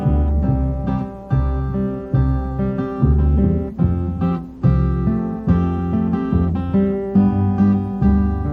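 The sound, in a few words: train sound imitated by a musician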